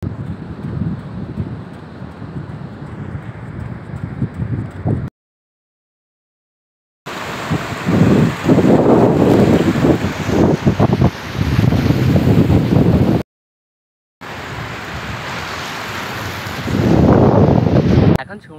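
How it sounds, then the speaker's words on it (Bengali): Strong wind buffets the microphone beside the sea near a bridge at a beach, loud roaring gusts in bursts broken by short gaps of silence, with surf beneath. "কিন্তু ব্রিজের পাশে আজকে প্রচণ্ড হাওয়া রয়েছে"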